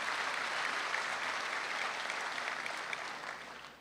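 Steady applause from an audience, a dense wash of claps heard somewhat distantly that holds evenly and then starts to fade toward the end.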